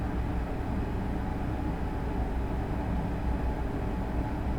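An ICE 1 high-speed train in Train Sim World 6 rolls along with a dense, steady low rumble and wheel noise, continuous and unbroken, with no voices.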